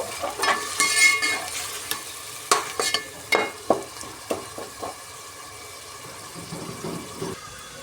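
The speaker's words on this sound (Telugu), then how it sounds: "ఇప్పుడు బాగా ఫ్రై చేసుకుందామండి అల్లం పేస్ట్." Ginger paste fries in oil in a pan for a quick biryani. A soft sizzle runs under repeated sharp spatula scrapes and taps, loud at first and then thinning out toward the end, with no voices.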